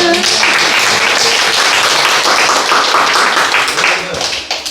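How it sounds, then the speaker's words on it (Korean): A church congregation breaks into loud, dense applause, steady clapping that tapers slightly in the final second. "박수 한번 칠까요?"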